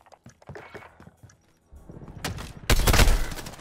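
Gunfire in Call of Duty Modern Warfare, with scattered taps and footsteps giving way to loud bursts of rapid automatic fire close by.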